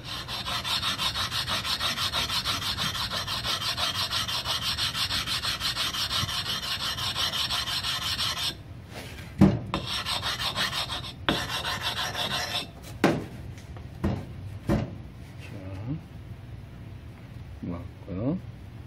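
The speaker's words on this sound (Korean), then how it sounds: "그러면 이 부분과 이 부분을 더 갈아주면 됩니다." A whetstone being flattened by grinding gives a steady, close rasping rub for several seconds, then breaks into separate scraping strokes and knocks with pauses between.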